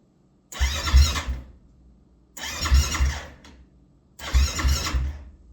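A 2020 Yamaha YFZ 450 quad engine cranks and catches in three loud, separate bursts, each a rough rumble lasting about a second before dropping away, with short quiet gaps between them.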